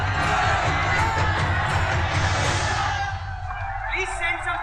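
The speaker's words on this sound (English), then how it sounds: "There's a huge crowd outside." A large crowd outside roars and shouts in a dense, continuous wall of many voices, loud and unbroken, easing slightly toward the end.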